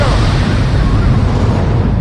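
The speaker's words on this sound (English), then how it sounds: "Where you at? Where my explosion at?" Explosion sound effect: a dense, roaring blast of broadband rumble that stays loud and sustained over two seconds with no distinct onset or decay, heard alone.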